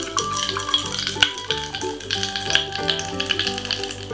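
Crisp crackling and crunching from chewing grape-flavoured Japanese cotton candy with hard candy bits mixed in, a dense stream of small snaps close up with no talking.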